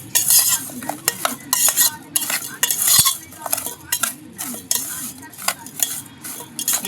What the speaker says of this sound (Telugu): ఇలా కరిగి అంతా కొంచెంసేపు తిప్పాలి, బాగా తిప్పి అలా ఉంచేసుకోవాలి కొంచెంసేపు.